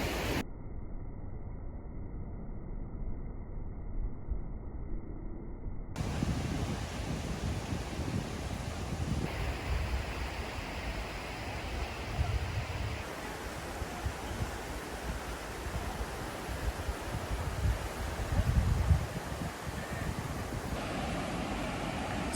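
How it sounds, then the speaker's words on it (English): Steady wind gusts sweep over a low rush of surf at Tanjung Aru Beach, Kota Kinabalu, Malaysia, broad and continuous, with shifting loudness and no voices. "there's a nice breeze, and yeah, the water is really calming me out"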